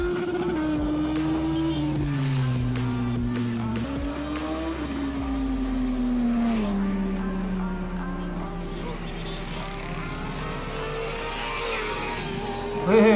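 Heavy racing motorcycles run on a Karachi track, their engines rising and falling in pitch as they rev and pass, loud and continuous throughout.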